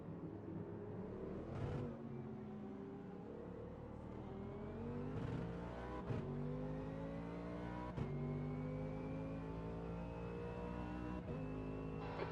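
A race car engine in the Automobilista 2 racing game climbs through the gears, its pitch rising steadily and dropping sharply at each shift, alone and fairly quiet.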